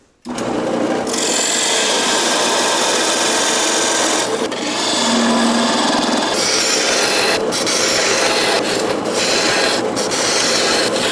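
Steady, loud whirring and scraping of wood being turned down on a lathe and shaped with a cutting tool, a continuous grinding rasp with slight shifts in tone, no speech.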